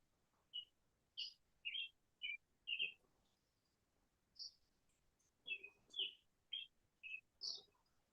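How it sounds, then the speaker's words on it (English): Small songbirds chirping in a series of short, bright, high calls, roughly a dozen spaced chirps in an irregular rhythm, fairly close and clear over a quiet background. "I think I have to put your bird sounds into my comic somehow."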